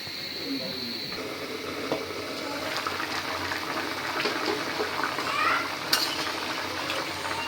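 Tomatoes go into a pan of frying fish curry, giving a steady close sizzle and bubbling with scraping and stirring of a utensil against the pan, one sharp clink near the end.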